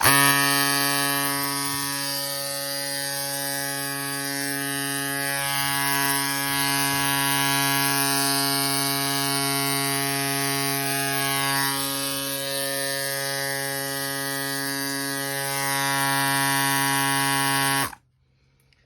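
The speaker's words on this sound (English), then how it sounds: "let's turn this on and let's blow. Let's see how strong of a blow this thing is." A Silca Elettrico electric pump runs steadily, blowing air with a loud, even motor hum and buzz close by, then abruptly shuts off near the end.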